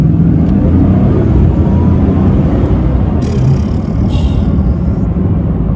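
A Bugatti Chiron's quad-turbo engine roars under acceleration, a loud, heavy low rumble that builds steadily and fills the whole stretch with no talk over it.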